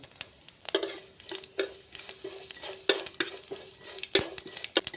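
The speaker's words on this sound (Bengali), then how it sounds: "দেখুন জিরে আর জোয়ানটা একটু ভাজা হয়ে গিয়েছে।" A spoonful each of cumin seeds and ajwain fry in about three spoons of mustard oil in a pan, a light crackle under repeated sharp metallic clinks and taps of a spoon against the pan.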